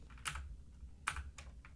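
Typing on a computer keyboard during code editing, a few quiet, crisp key clicks spaced irregularly, near and faint against a soft room hum.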